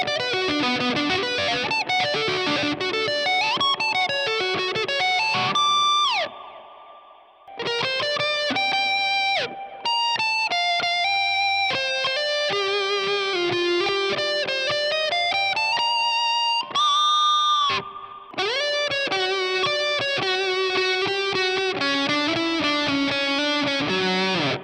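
Distorted electric guitar through a Boss GT-1000 Orange Rockerverb amp model plays a busy melodic passage with delay and reverb tails, loud and continuous, pausing briefly twice.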